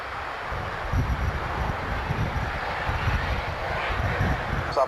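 Military aircraft engines winding up at the 1993 Fairford air show, a broad distant roar with low rumbling pulses, steady and moderately loud across the open airfield.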